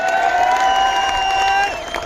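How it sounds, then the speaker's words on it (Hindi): Crowd applause and cheering at a political election rally in India, a dense, steady wash of clapping and voices held loud throughout, easing slightly near the end. "दिल्ली तक जाए आपकी तालियों का शोर"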